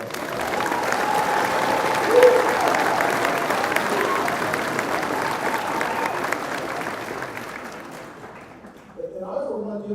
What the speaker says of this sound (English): let's give these folks all a round of applause